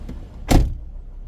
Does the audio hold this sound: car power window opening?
yes